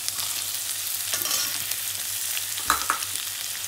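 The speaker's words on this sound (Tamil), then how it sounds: "இப்போ நல்லா வதங்கிட்டுருக்கு" Beans, potato and carrot sauté in a pan for a white vegetable kurma, giving a steady close sizzle with a few scraping stirs and no talk.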